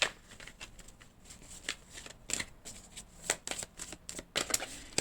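Tarot-style cards being shuffled and drawn for an astrology reading, soft close riffling and flicking in irregular bursts, quiet overall with sharper snaps toward the end.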